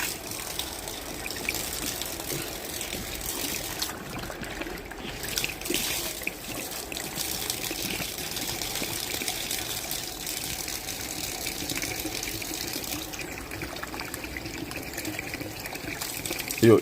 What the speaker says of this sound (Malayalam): അപ്പോൾ ഞാൻ ഇതിൽ വരുന്ന വെള്ളം നിങ്ങൾക്ക് എടുത്ത് കാണിച്ചു തരാം.